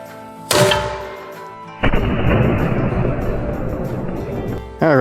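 An experimental-ammo hand cannon fires twice: a sharp, loud blast, then a second heavy boom followed by a long rumbling, rolling decay, and the start of another burst cut off at the end.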